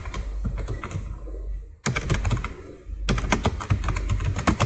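C code is typed on a computer keyboard in close, rapid bursts of clattering keystrokes, with short pauses between runs of typing.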